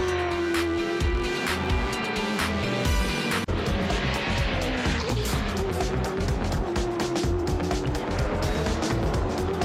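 Race cars roaring continuously at close range during a race at Hamilton, engine drone steady with rising and falling pitch as they pass, a commentator's voice faintly under the noise.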